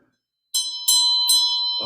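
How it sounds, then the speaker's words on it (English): A Tibetan Lama bell used for Buddhist practice is struck three times in succession, each bright metallic ring sustaining and overlapping the next, close and clear in a quiet room, with a soft rustle at the end. "bell that we use for our practices, our Lama bell, as we might call this"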